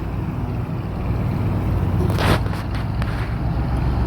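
A motorized sprayer on farmland runs with a steady engine drone and constant mechanical rumble, and a brief hiss rises partway through.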